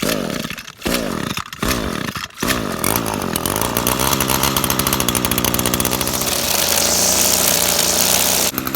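Echo SRM-225 gas string trimmer fitted with a new carburetor, pulled over a few times then catching and running steadily with a loud, continuous two-stroke buzz close by.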